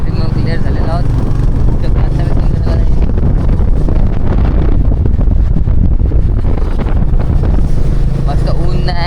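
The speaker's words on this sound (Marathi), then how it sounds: "मस्त वारा सुटला, थंड वारा लागणार गाडीवर" Strong cold wind buffeting the microphone while riding a motorbike in traffic, a loud constant roar and rumble throughout, with a voice talking over it.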